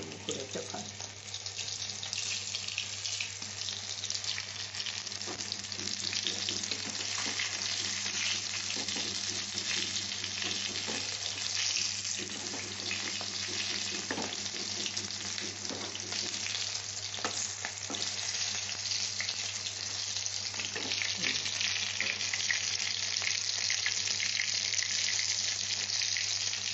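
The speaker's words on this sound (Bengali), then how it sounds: "এরকম করে 2 পিস ভেজে তুলে নিয়ে আপনাদের কাছে ফিরে আসছি।" Mourala fish pakoras deep-frying in hot oil, giving a steady, dense, close crackling sizzle that runs unbroken throughout with no talking.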